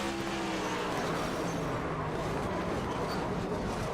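An onboard race car engine in the iRacing game at Lucas Oil Raceway drones loud and steady with shifting revs, commentators faintly talking beneath it.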